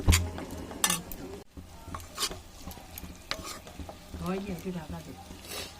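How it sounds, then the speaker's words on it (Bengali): A spoon scrapes and stirs Malabar spinach curry in a pan, with irregular clinks and scrapes against the metal, a light sizzle underneath, and a quiet voice speaking at times. "ঢাকা খুলে দিয়েছি, আবারও আমি ভালো করে একটু নেড়ে নেবো"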